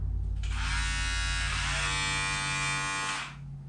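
A QBZDOUA professional ceramic hair clipper buzzes steadily and close for about three seconds over a low hum, then winds down and cuts off.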